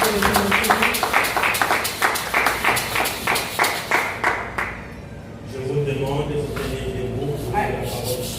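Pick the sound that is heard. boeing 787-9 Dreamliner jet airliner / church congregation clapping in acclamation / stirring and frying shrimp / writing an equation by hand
church congregation clapping in acclamation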